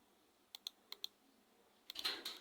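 A few quick, light keystrokes tap on a computer keyboard, two pairs of clicks followed by a denser burst of typing, close and fairly quiet.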